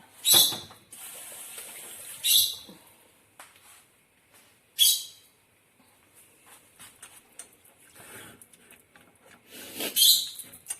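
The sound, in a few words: stirring caramel with cream in a pan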